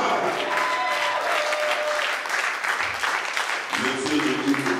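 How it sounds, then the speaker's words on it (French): A church congregation claps and cheers in acclaim of the Lord, steady loud applause filling the room with voices mixed in. "J'ai demandé qu'on acclame le roi de rois."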